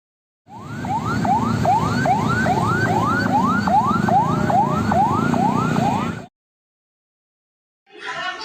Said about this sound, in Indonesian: Ambulan datang